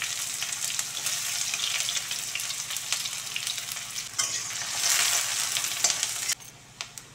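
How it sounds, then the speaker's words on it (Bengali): Chopped onion, garlic and green chilli fry in hot oil in a wok, giving a continuous close sizzle with scraping stir strokes throughout, then a brief quieter spell near the end. No voices. "রসুন কুচি, লঙ্কা কুচি দিয়ে ভালো করে ভেজে নিয়ে টমেটো কুচি দিতে হবে।"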